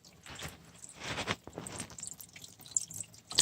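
Coolant drips from a drain valve through a rubber hose during thermostat work on a car cooling system, giving close, irregular small splashes and drips into a container.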